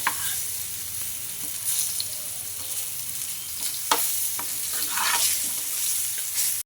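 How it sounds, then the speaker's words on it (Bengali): Potatoes with a little turmeric fry in oil in a pot for vegetarian khichuri, giving a continuous close hiss of sizzling with occasional scraping stirs and no voices. "আলু ভাজা আমার হয়ে এসছে"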